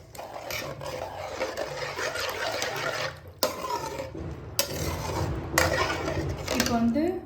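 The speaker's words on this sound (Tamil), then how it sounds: "தண்ணி சேர்த்ததுக்கப்புறம் நல்லா மிக்ஸ் பண்ணிக்கலாம்." A ladle scrapes and clinks against a metal pot as fish curry with added water is stirred, with steady clattering strokes and a few sharper knocks, close and fairly loud.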